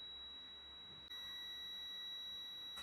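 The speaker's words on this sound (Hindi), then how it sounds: "यहाँ से इस पिन पे हमें बीप की साउंड मिल रही है।" A multimeter gives a steady high continuity beep as its probe touches a mic circuit pin, the tone cutting in partway and holding at moderate level over faint background hiss.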